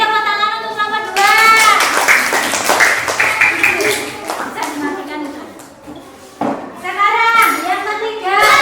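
Students in a classroom clap for a group after its presentation, a burst of clapping mixed with children's voices and chatter; someone speaks over the noise and talk resumes as the clapping fades.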